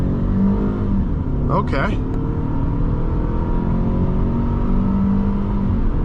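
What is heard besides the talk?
2010 Toyota Camry LE 2.5 accelerating from 0 to 60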